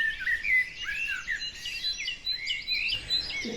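Small birds chirp and tweet around a garden bird feeder, with quick bright overlapping calls repeating near and clear over a quiet background.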